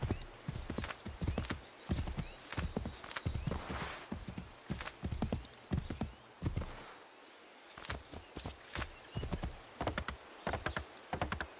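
A horse in the video game Assassin's Creed III, hooves clip-clopping in quick uneven bursts with short pauses and a faint whinny, fairly close and clear with no speech over it.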